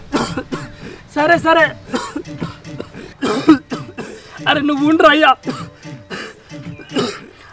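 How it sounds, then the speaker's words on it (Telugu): Several harsh coughs and throat clearing mixed with people talking, the coughing coming in bursts between spoken words. "ఇదేం దగ్గర నాయన దగ్గి దగ్గి కడుపులో పేగులు బయటపడేటట్టున్నాయి"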